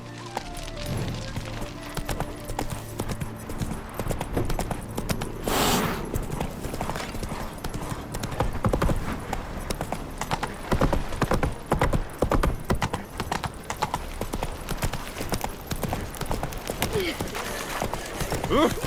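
The horse Roach gallops in The Witcher 3, with steady rhythmic hoofbeats throughout and one whinny early on. Voices and game sounds come in over the hooves at times.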